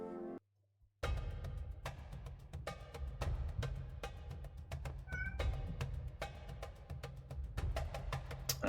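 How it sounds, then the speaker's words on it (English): A house cat meows repeatedly in the background, its calls recurring at irregular intervals and fairly close, over a steady low background hum. "you can probably hear my cat in the background."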